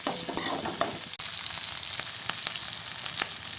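Fennel seeds, cloves and mustard seeds fry in hot oil in a pan, a loud steady sizzle with small crackles and pops running throughout.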